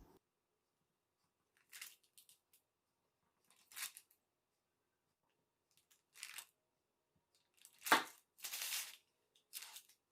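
A knife slices through cooled homemade caramel candy, cutting it into small rectangles: several separate short, crisp crunching cuts spaced apart in an otherwise quiet room, close and fairly soft, with no talking.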